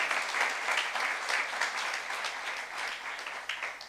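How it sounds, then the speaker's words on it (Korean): A church youth group claps together in a sustained, dense burst of applause, many hands overlapping evenly at close range. "박수 한번 해주세요"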